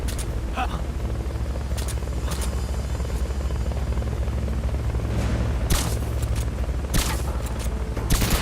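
Helicopter in the video game Metal Gear Solid Peace Walker, a loud steady rotor roar throughout with bursts of gunfire and booms, and a voice speaking over it.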